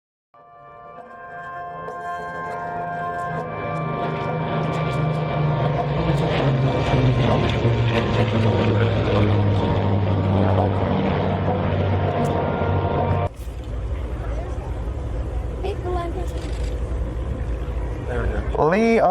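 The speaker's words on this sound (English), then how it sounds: "look at how perfectly, majestically beautiful the Lancaster returns to Earth" Avro Lancaster bomber landing, with a loud sustained rumble of its piston propeller engines that drops abruptly partway through, and someone talking over it.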